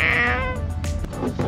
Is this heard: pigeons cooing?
no